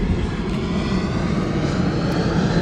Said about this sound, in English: planes flying right over me